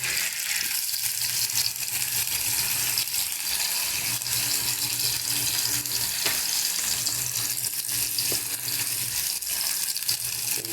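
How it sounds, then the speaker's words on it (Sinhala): Thinly sliced potatoes sizzle in hot oil for a potato and mushroom curry, a loud, close, continuous crackling fry with small pops and occasional stirring clinks, and no voices. "ඒක නිසා අපි හීනෙට කපාගත් අල ටික මෙහෙම දානවා තෙලට"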